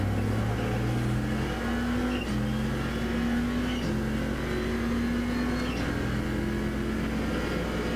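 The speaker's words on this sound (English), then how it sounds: "Getting on the gas nice and early" Racing car engine in a GT-class sim race at Mid-Ohio, revving and pulling hard through the gears with steady rising pitch, loud and continuous, no talk over it.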